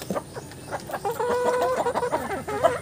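Young chicks and hens of Rhode Island Red, Black Australorp and Barred Plymouth Rock breeds cluck and cheep excitedly at feeding time, a busy, close chorus of overlapping calls with a few sharper peeps.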